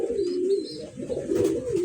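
A pigeon coos close by in soft, wavering low notes, repeated without pause.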